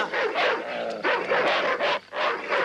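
A dog barks in several loud, close bursts with short gaps between them, sounding agitated, with nobody speaking over it.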